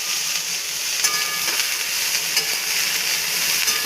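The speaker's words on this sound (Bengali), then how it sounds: "এই দেখুন বন্ধুরা, আমাদের ফুলকপি ভাজা হচ্ছে।" Cauliflower frying in a pan with salt, turmeric and sugar, a steady bright sizzle filling the scene while a spatula stirs it, with a few soft scraping knocks mixed in, close and continuous with no voices.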